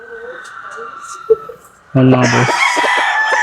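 A young Spartan Black gamefowl stag, an early-bird rooster on a gamefarm, crows loudly and close by in one drawn-out call after someone speaks briefly.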